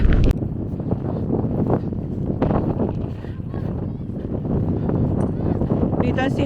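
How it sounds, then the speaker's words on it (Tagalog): Strong wind buffets the microphone at an outdoor skate park, a steady low rumble running the whole time with brief children's voices and chatter over it. "Ang lakas ng hangin."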